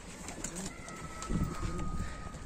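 Van tumbler pigeon, a caught stray bird, coos nearby in soft low repeated calls, a steadier burst in the second half, over faint background noise.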